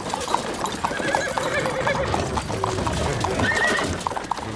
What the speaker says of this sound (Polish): ten szwadron koni na pewno nie zostanie odnotowany